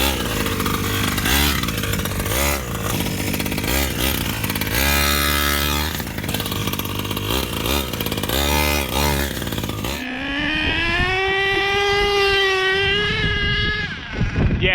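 A HPI Savage XL K5.9 1/8-scale nitro RC truck crawls over an obstacle, its small two-stroke engine buzzing loud and raspy with repeated revving bursts, then holding a steady high-pitched whine near the end.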